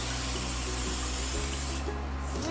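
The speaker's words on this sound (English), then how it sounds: "So you just get to spray it on there." A hand-pumped, pressurized spray bottle releases a loud, close, continuous hissing spray for about two seconds before it cuts off.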